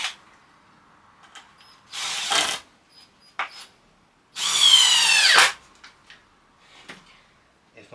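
Cordless drill driving screws into a folding saw horse: two bursts of motor whine, the second longer and revving, separated by small clicks and handling knocks, close up.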